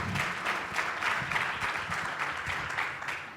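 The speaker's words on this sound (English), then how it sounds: "If you would please give a round of applause to our wonderful panelists." An audience claps for the panelists at the close of a Gulf business breakfast briefing panel. The applause is steady and moderately loud, a dense wash of hands that holds through the whole stretch without any voices on top.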